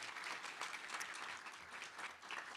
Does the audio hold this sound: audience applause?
yes